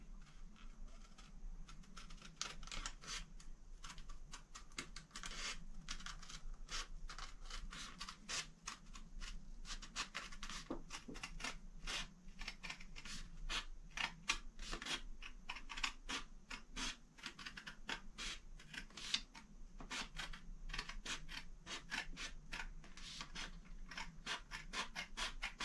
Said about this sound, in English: Just take my scissors here and get this cut out.